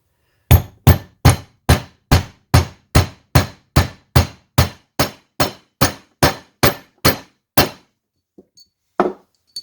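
A hammer taps a firing pin into a Remington 870 locking block, giving about sixteen crisp, evenly spaced knocks, then a pause and two more stray taps.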